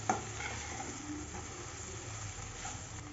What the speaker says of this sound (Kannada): ಹಾಗಲಕಾಯಿ ಇದ್ರೊಳಗೆ ಹಾಕೊಂಡ್ಬಿಡತ್ರಿ ಇದೊಂದ್ಸಲ ಚಲೋತ್ನೇ ಕಳಿಸ್ಕೊಂಬಿಡನ್ರಿ